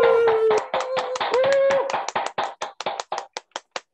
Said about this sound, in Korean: 지금부터 3초간 박수 치겠습니다